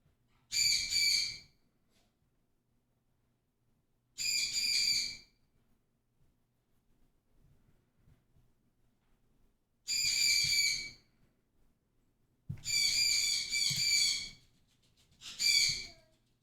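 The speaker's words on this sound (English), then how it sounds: "That baby bird is so shrill." A young bird gives shrill, raspy calls in separate bursts of about a second each, some paired, against a quiet background.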